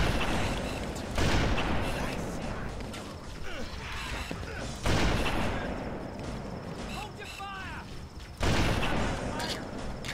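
Stationary gun turrets fire in Halo: Combat Evolved, with bursts of heavy gunfire and clanking mechanical noise. Loud blasts hit at roughly 1, 5 and 8.5 seconds, and voices talk under the battle.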